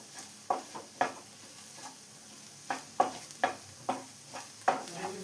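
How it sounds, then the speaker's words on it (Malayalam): Chicken keema with turmeric stirred in a frying pan: a quiet sizzle under a series of sharp, irregular spoon scrapes and taps against the pan. "എല്ലാം കൂടെ ഒന്ന് മിക്സ് ചെയ്ത് കൊടുക്കാം."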